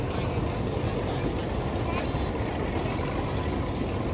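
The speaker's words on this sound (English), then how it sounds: "We're seeing right now a Caterpillar diesel track type tractor, probably built in the 1950s." A 1950s Caterpillar diesel track-type tractor running at an antique machine parade show, giving a dense, continuous rumbling roar that stays loud and steady throughout with no pauses.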